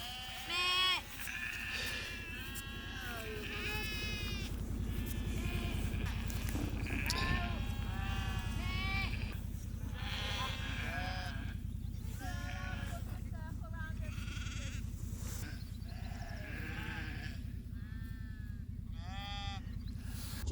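Cheviot sheep bleat again and again, a flock calling out of doors near a lambing shed over a steady low rumble, with some voices mixed in.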